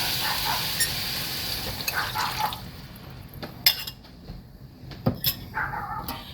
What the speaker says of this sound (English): I'm going to give it a really good mix.